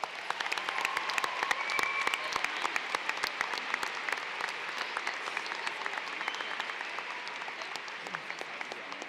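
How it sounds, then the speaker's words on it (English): Sustained applause from a large audience at a high school graduation ceremony, steady dense clapping from many hands filling the hall at a moderate distance, with no talk over it. "Please give these people a round of applause."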